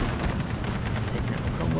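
Off-map artillery fire in Steel Division 2, a World War II strategy game, rumbling as a dense continuous barrage of booms and blasts throughout, with voices faintly mixed under the noise.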